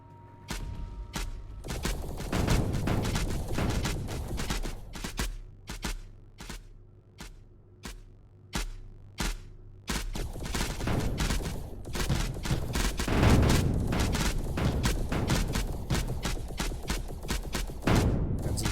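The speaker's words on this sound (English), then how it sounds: "I can just shoot them until they all blow up" Video game gunfire shooting at turrets until they blow up, a long series of sharp repeated shots in bursts over a low rumbling drone, with dense explosive blasts toward the end.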